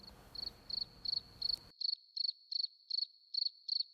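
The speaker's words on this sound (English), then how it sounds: "The only sounds being my footsteps and the soft chirping of crickets." Crickets chirp softly at dusk in a steady rhythm of short, evenly spaced trills. They are faint and distant, with a brief low rumble under the first stretch before the chirps continue alone.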